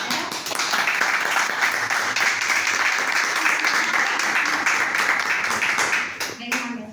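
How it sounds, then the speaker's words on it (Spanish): A school audience gives third-year students a sustained round of dense applause for several seconds, tapering off near the end as a voice comes in. "retorno el fuerte aplauso para los chicos del tercero"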